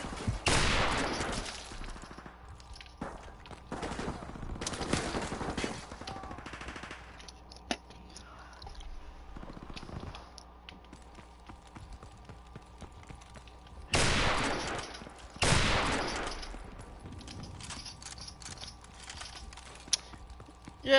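Online multiplayer gunfire in Call of Duty Modern Warfare Remastered, several loud close bursts separated by quieter stretches of distant shots and footsteps, with no talking.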